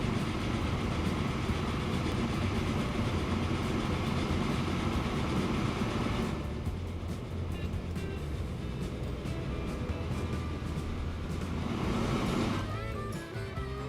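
A freight train runs in the video game Transport Fever, a continuous loud rumble with rolling clickety-clack that eases and thins partway through before swelling again, with no talking.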